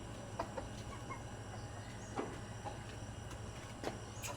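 Chickens clucking faintly at a feeding on a backyard farm, a low steady murmur of fowl with a few brief sharper calls scattered across the clip; no talking.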